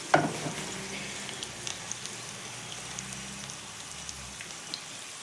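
Gyozas fry in a pan with a soft, steady sizzle and light spattering crackles that open with a brief louder burst, then settle into quiet continuous frying.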